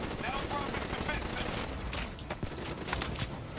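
Gunfire in the video game Call of Duty: Black Ops 3, a dense, continuous barrage of shots and bursts with a player talking over the top.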